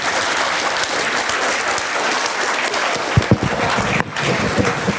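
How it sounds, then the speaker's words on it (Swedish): A large audience claps loudly and continuously at a talk on climate scare propaganda, a dense, close wash of applause with a few sharper individual claps and a short dip partway through. "vi ger en stor applåd"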